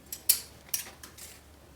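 Scissors cutting out a blouse neckline from cloth, three or four crisp snips spaced irregularly, close and fairly quiet against a silent background.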